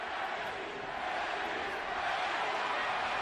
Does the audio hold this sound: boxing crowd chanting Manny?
yes